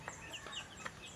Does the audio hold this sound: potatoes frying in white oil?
no